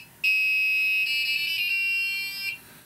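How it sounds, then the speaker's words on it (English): An Arduino piezo buzzer plays a video game melody as a run of sustained, piercing electronic tones. The notes shift pitch in steps for about two seconds, loud and close, with no voices. "show you how you can get a buzzer to produce a series of tones, including music"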